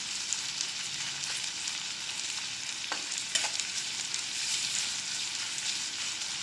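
Potatoes and onion fry in hot oil with a steady, close hiss of sizzling, broken by a couple of brief stirring clatters.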